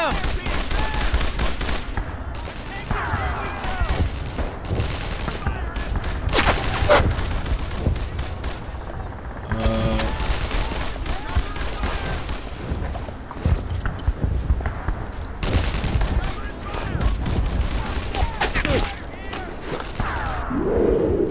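Sustained gunfire in the World War II shooter Brothers in Arms: Earned in Blood, with bursts of rifle and machine-gun fire crackling over a dense battle din throughout, punctuated by booms while soldiers shout.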